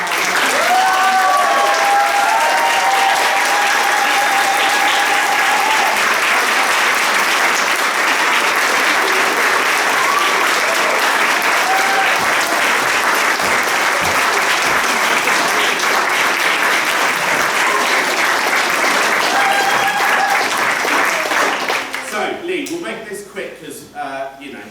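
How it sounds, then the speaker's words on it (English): Loud, sustained audience applause fills a theatre for the IHDC after their Aladdin show, steady throughout and then tapering off near the end. "could we have a round of applause for the"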